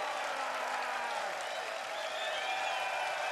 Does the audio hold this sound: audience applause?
yes